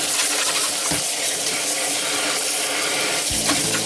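Small spear squid (hiika) are rinsed in a colander under running tap water, a steady close rushing splash with a couple of soft knocks from handling.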